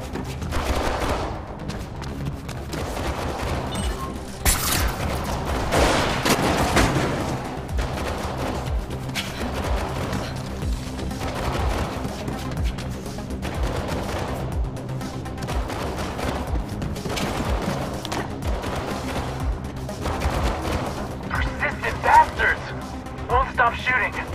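Gunfire rattles through a firefight in Mirror's Edge Catalyst, with repeated bursts and volleys spread across the scene at moderate distance, mixed under game voices and background score.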